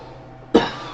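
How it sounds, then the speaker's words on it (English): A single sharp cough from a man with a lingering cough, close to the microphone, breaking a quiet background and trailing off over a fraction of a second. "hopefully get rid of this stupid cough"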